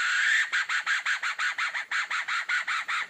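A brass decoy call sounds a bright, reedy, quick, regular series of about a dozen short clucking notes, close and clear, mimicking a hen.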